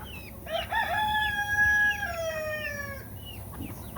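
A rooster crows one long, clear drawn-out call on a farm among chickens and hens, with faint clucking and farmyard noise before and after.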